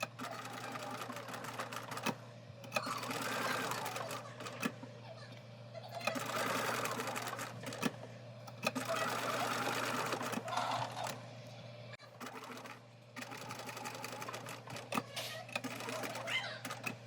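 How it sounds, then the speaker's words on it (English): A sewing machine stitches around fabric face pieces for a Halloween trick-or-treat basket, running in bursts of steady whirring with short pauses between them, close and moderately quiet. "stitch around each face piece to keep them in place"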